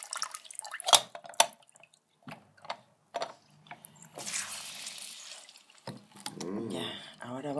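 Juice is squeezed by hand from a very large grapefruit, producing wet squishing and dripping sounds in short bursts, with someone talking over parts of it.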